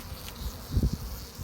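Honey bees in a hive beneath a flexible, lightweight inner cover, producing a faint, close buzzing hum with a brief louder swell near the middle.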